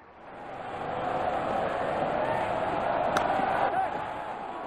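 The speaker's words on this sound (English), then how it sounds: "Crowd is going crazy." A cricket stadium crowd at a South Africa versus West Indies T20 match roars in a broad, sustained wash that swells and holds, with a brief sharp burst partway through.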